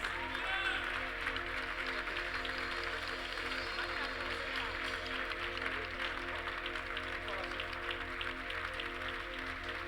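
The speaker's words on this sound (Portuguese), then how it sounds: "Aplauda Jesus." Steady applause from a church congregation fills the whole stretch, a dense, even patter of many hands clapping without a break.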